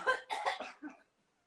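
Audience member at an art talk coughing: a quick burst of several harsh coughs, close and fairly clear, ending abruptly into silence.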